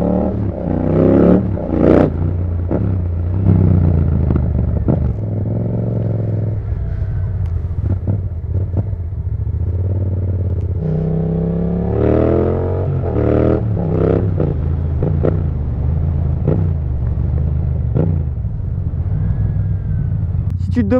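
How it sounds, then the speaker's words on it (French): A Yamaha MT-07 motorcycle fitted with an Akrapovic exhaust idles with a deep rumble, then revs hard in several rising and falling bursts, loud and close, while someone talks over it. "Bon les gars, on est sur un MT-07."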